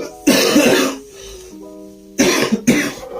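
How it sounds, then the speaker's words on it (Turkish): A person gives a few forced, exaggerated coughs in short bursts, with a brief pause between them, close up. "Yalandan öksürüyor ki acındırsın kendini"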